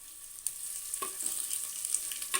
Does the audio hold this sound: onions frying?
yes